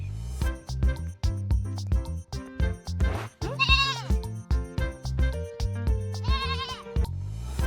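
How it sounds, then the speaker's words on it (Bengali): Goats on a road give two drawn-out, wavering bleats, one in the middle and one near the end, over a loud, rhythmic thumping beat with a musical backing. "আমি রাস্তায় দুটো ছাগল দেখতে পাচ্ছি, আর ছাগলটা খালি চিৎকার করছিল"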